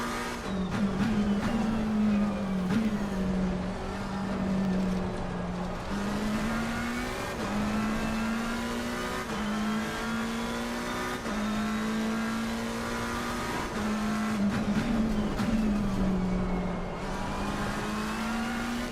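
A McLaren GT race car in Assetto Corsa Competizione holds a steady, droning engine note that rises and falls with the revs. Sharp shift blips recur throughout, and no one speaks over the long stretch of engine sound.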